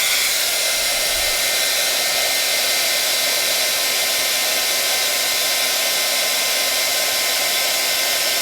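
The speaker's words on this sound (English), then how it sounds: "I'm going to heat up the embossing tool." Heat embossing tool blowing hot air for baked texture embossing powder, a steady loud whooshing roar like a hair dryer that runs unbroken throughout with no talking.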